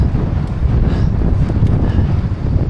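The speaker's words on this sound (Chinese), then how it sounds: "哇，这大风真刺激！" Strong wind roars across the microphone during a cycling trip near empty buildings in Baiyin, Gansu, a dense, steady buffeting rumble that fills the clip with no voices.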